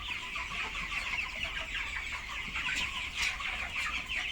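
Chickens cluck inside a henhouse, a dense, constant chorus of many birds at moderate distance with a low background rumble.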